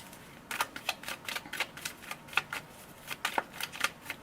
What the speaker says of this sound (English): We're going to pull cards for the present position.